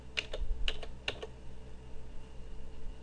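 Keys pressed on a computer keyboard as the R or F keys switch maze levels: a few crisp clicks in quick pairs, close and clear over a quiet room hum, with no talking.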